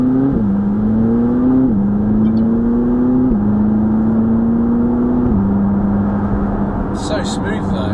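A McLaren sports car engine drones steadily under acceleration, its pitch rising and dropping with each gear change, heard from inside the cabin as people talk over it.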